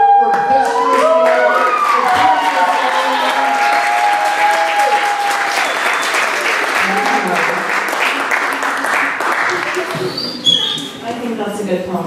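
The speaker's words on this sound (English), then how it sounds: "can we give a big round of applause?" An audience at a music and arts festival applauds, clapping loudly and steadily under a whooping voice and music, then tapering off near the end as a speaker begins.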